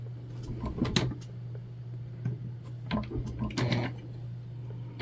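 Home sewing machine stitching a Briana bag, a close, irregular series of mechanical clicks and short whirring bursts over a constant low motor hum, no voices.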